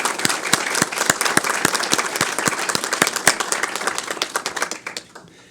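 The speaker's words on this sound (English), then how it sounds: "I think we got to give a round of applause to the educators" Audience at a school board public meeting applauding educators, a dense burst of brisk clapping from a room of people that fades out near the end, with no talk over it.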